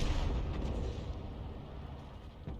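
A leFH18B2 artillery gun firing in a video game, one heavy boom with a long rumbling decay, loud and close, followed by a smaller thump near the end.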